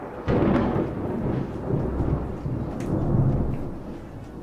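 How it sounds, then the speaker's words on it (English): Stormy weather in the video game Lured In: a loud thunder crack rolls into continuous rumbling over steady rain, with a second swell of thunder midway, no talking. "This is for the stormy weather type."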